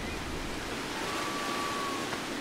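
Rushing waterfall water in the video game ICO gives a steady, dense roaring wash of noise with a faint thin tone drifting through, continuous and loud, with no talk.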